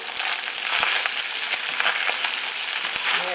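Rice with bacon, chorizo and red pepper is mixed in a hot pan, a loud even sizzle punctuated by soft thumps and scrapes of the spoon.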